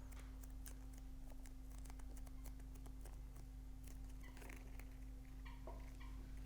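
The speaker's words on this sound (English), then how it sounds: "And my chair squeaking kind of sounds like my cat." A desk chair squeaks in a quiet craft studio in a series of short, thin squeals with a cat-like, mewing quality, faint and close over a steady low electrical hum.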